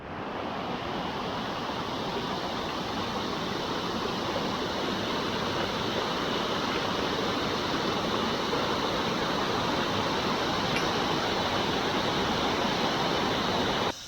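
A mountain river on a Himalayan trek rushes continuously, a loud, dense, unbroken roar of flowing water close by.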